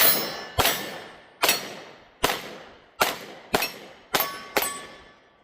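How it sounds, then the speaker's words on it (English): Rapid pistol fire from a Springfield Hellcat Pro Comp with muzzle compensator, eight sharp near shots with quick decays in about five seconds, ringing with metallic clangs from steel targets in an uneven fast rhythm. "Let's do some fast shooting with this comp"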